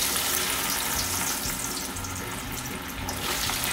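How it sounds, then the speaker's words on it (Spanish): Drained potatoes fry in hot oil, cooking for a salt cod recipe, with a loud, continuous close-up sizzle and crackle that holds steady throughout, no voices over it. "Las vamos a poner en fritura, lógicamente ya con el agua bien escurrida."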